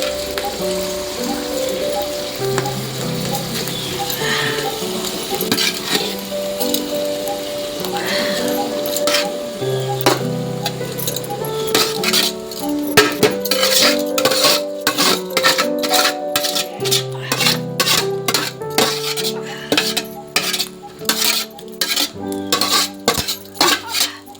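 Rice tipped into a pot of cooked chicken for Pandharpuri dum biryani, then mixed: loud, close clanks and scrapes of a metal spoon against the pot, growing into rapid rhythmic clinking near the end.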